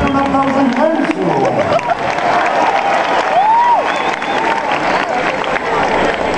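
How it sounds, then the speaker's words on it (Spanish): An audience at a 30th-anniversary event for a Colombian cooperative insurer claps loudly and steadily, with cheers and crowd voices rising over the dense applause throughout. "Se merecen un aplauso inmenso."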